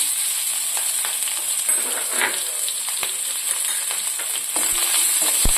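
Chopped garlic, ginger and green chillies with a pinch of fenugreek sizzle in hot oil for a yogurt-curry tempering, a loud, steady, close hiss with occasional crackles and the clink of a spoon stirring.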